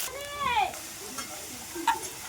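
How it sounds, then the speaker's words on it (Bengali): Carrots and potatoes fry in oil with panch phoron in a wok, a faint sizzle broken by a few squeaky stirring scrapes. "গাজর আর আলুগুলো দিয়ে দিলাম তেলে একটু ভেজে নেবে"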